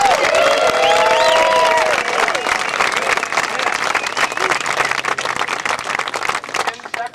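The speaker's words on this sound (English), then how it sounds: "please give a big round of applause for Jesper Lundmark." An audience at a 2000 pro-am world disc golf championship awards ceremony breaks into sustained applause, dense clapping that follows a brief stretch of a voice over the PA, then thins toward the end.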